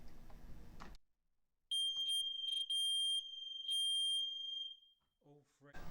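A hard-wired carbon monoxide alarm in a home sounds its test signal: loud, piercing high-pitched electronic beeps in short repeated bursts, with one long sustained tone, coming after a low rumbling bit of noise and followed by faint voices.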